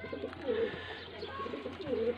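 A breeding pair of pigeons cooing softly in repeated low, throaty calls over a steady background hum, nearby, the female ready to sit on eggs.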